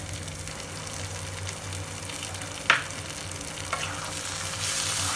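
Capsicum being stirred into prawn masala frying in a pan, a steady soft sizzle with a few scraping clinks of the spoon against the pan, close and with no voices.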